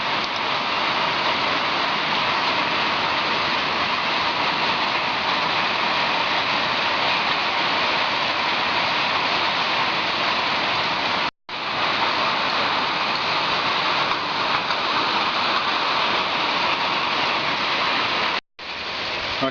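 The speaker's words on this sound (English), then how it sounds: "It's been raining for about a week and a half" Steady, heavy summer rain pours without letup, a dense hiss of drops with two brief cuts of silence.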